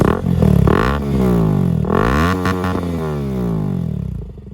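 KTM RC200 motorcycle fitted with an Akrapovic full exhaust revving close by, its loud engine note sweeping up and down through several throttle blips.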